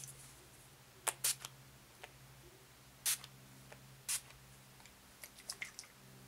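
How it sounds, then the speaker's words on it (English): NYX matte setting spray hisses from its bottle in several short, separate bursts that stand out clearly against a quiet room. "I used the NYX, okay, matte spray to finish off my makeup"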